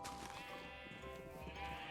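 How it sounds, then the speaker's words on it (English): Sheep bleat repeatedly on a video game sheep farm, a dense, steady chorus of overlapping bleats at moderate loudness with no talk over it. "Actually humane sheep farm-ish."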